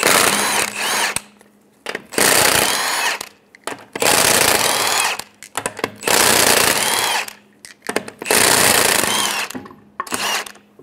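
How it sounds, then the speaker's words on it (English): Impact wrench spinning off the 19mm lug nuts on a rear wheel of a 2003-2008 Honda Pilot, loud close bursts of rattling power-tool noise, three long runs broken by short pauses. "Using a 19mm socket, we're going to remove the lug nuts."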